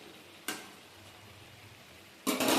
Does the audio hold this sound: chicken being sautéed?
yes